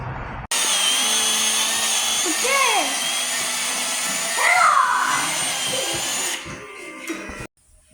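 Power tool cutting through the end of a brand new hydraulic cylinder, a steady loud whine running for about six seconds before dropping off, with some voices faintly underneath.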